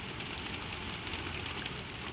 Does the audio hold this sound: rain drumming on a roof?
yes